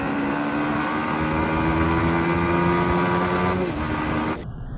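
A Yamaha MT-15 motorcycle races an RX100, giving a loud, steady engine drone with strong harmonics that holds for several seconds, shifts slightly near the end, then drops off abruptly.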